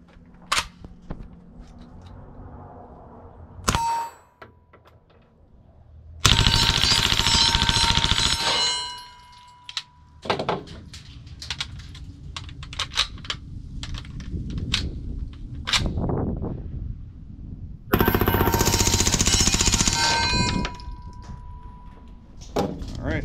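Two long bursts of rapid full-auto fire from a B&T SMG-M-9 submachine gun, loud and close, with metallic clangs and dings from steel targets ringing between the bursts.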